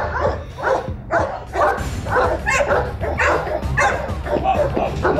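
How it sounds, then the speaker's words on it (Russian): A fighting dog, with a pit bull mentioned, barks in repeated rough bursts close by, broken by yips and whimpers, with a busy, noisy background. "Боевая собака."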